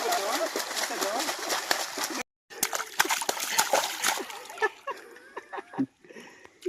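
Water splashes repeatedly in loud, broken bursts as feet stamp through water in a flooded garden, with voices talking and calling over the splashing and a short pause partway through.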